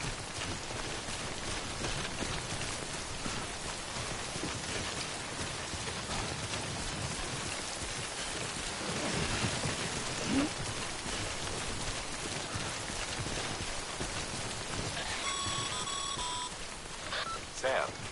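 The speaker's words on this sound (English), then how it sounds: "remember that prolonged exposure to timefall damages cargo containers. Don't stay out in the rain any longer than you have to." Timefall rain in the Death Stranding video game falls in a steady dense hiss, with a voice speaking over it and a few faint electronic beeps near the end.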